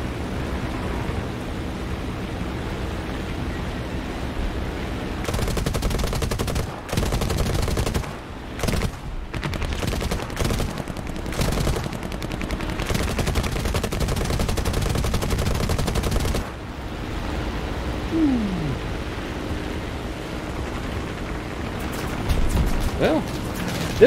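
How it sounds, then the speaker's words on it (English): Rapid bursts of aircraft cannon and machine-gun fire strafing ground targets in War Thunder, a dense, sustained roar of gunfire broken by brief pauses, with engine drone underneath throughout. "Let's get down to the deck and shoot some ground targets."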